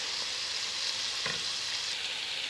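A chicken biryani mixture with carrots and pepperoni is stirred in a hot frying pan, giving a continuous bright sizzle with soft scraping motions throughout.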